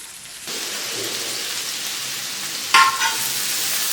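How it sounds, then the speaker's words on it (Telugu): Finely chopped onions fry in a little oil in a pan while fish fry is being made, giving a steady, close sizzle with a brief louder crackle near the end. "కొద్దిగా ఆయిల్ వేసుకున్నాం ఫ్రై కదా కొద్దిగా పడుతుంది ఇవే రెండు ఉల్లిపాయలు ఫైన్గా చాప్ చేసుకున్నది"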